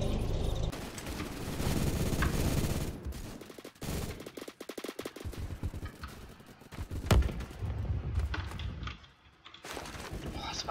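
Rapid automatic gunfire and single shots from the Roblox shooter Phantom Forces crackle in dense, loud bursts, with brief lulls and a sharp isolated shot near the end.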